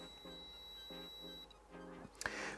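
A Wiha two-pole voltage tester runs its self-test, giving a short series of clear, repeated electronic beeps at close range before a brief louder burst.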